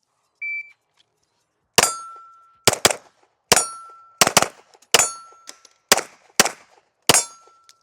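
Staccato P pistol fired at steel targets: a string of about eight sharp, loud shots, each followed by a ringing metallic clang, spaced unevenly in quick succession after a short beep.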